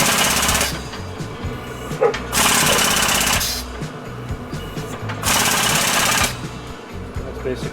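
A homemade 12-ton air-powered press worked by a foot pedal and fed by an undersized compressor gives two long, loud bursts of rushing air hiss over a steady mechanical rattle, with shorter clatter between them.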